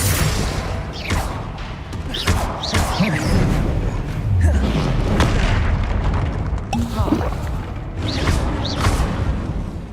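Confringo fire spells explode in Hogwarts Legacy combat, a rapid series of loud booms and bursts mixed with clattering mechanical noises, with brief voices sounding among the blasts.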